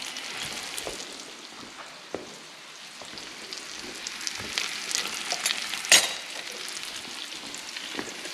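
Steak sizzles and fries steadily in a pan beside green beans, a dense crackling hiss with scattered pops and one sharp spatter, close and unbroken with no talking.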